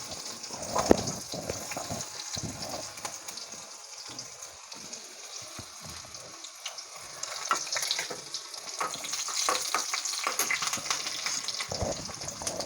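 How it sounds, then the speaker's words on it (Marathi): Chopped garlic and two green chillies frying in a pan, a steady close sizzle with scattered pops and stirring scrapes, building somewhat louder toward the end. "लसूण छान असा फ्राय झाला आहे"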